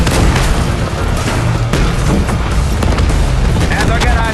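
Tank gun fire and heavy booms in the Call of Duty Black Ops 6 campaign, with a T-72 tank nearby, dense loud rumbling and repeated blasts with voices talking over the din.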